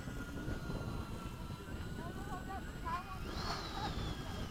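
A radio-controlled model jet comes in to land, a moderate steady whining drone with faint rising tones toward the end, heard from a distance under wind noise and soft indistinct voices.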